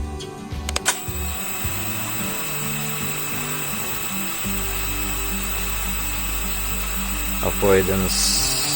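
An SG906 MAX drone is switched on indoors. A steady electric whine and hum starts up and holds, with clicks and brief higher chirps near the end.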